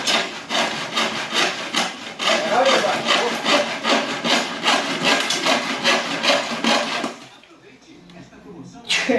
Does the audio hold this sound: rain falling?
no